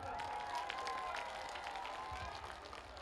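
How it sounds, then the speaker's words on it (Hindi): Crowd applause fills an outdoor public election rally in Gunnaur, Panna district, Madhya Pradesh: a dense, steady wash of many hands clapping at moderate distance, sustained throughout without a break. "एक बार भाई साहब के लिए सब लोग जोरदार तालियां।"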